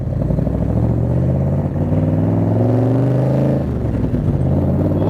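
A Superformance 1965 Shelby Cobra replica with four-barrel carburetors accelerates hard through the gears, its loud, close engine rising in pitch, dropping at each shift and climbing again, with no talk over it.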